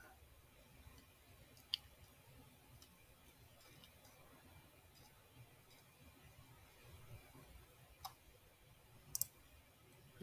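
A computer mouse clicks a few times, sharp isolated taps spread out in a quiet room, with a quick double click near the end.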